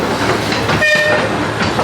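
A roller coaster train runs along its track at Blackpool Pleasure Beach, giving a loud, close, continuous rumbling roar with rattling wheel noise and a brief higher squeal partway through.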